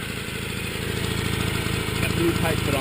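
A Piaggio Bravo scooter's small engine idles steadily with a rapid, even putter, close by and fairly loud, holding the same rhythm throughout.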